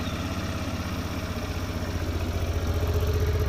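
A Honda NT-700V Deauville motorcycle idling just after starting, a steady low rhythmic engine thrum with regular exhaust pulses, close and moderately loud, gradually firming up over a few seconds with no talking.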